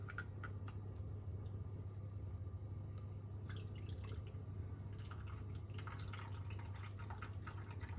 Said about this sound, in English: I'm going to drain out the juice.